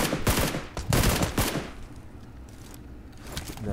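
Rapid bursts of video game gunfire crackle loudly through the first second and a half, then drop back to a quieter, muffled background of distant shots and game noise.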